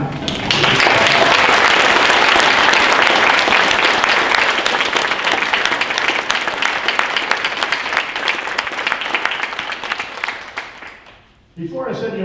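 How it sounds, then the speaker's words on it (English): Audience applause at a League of Women Voters candidate forum, a loud, dense wash of clapping that holds for about eleven seconds before tapering off and stopping, with faint sound resuming afterward. "They deserve our gratitude, our appreciation, and our applause."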